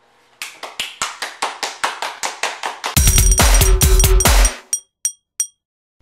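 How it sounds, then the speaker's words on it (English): A group claps hands together in a steady rhythmic beat of about a dozen claps, then breaks into a louder burst of dense overlapping clapping before ending with a few last scattered claps. "Everybody clap your hands"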